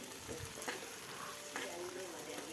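Chopped medium-sized tomato frying in a pan for radish palya gives a faint, steady sizzle with a few stirring scrapes over a short stretch.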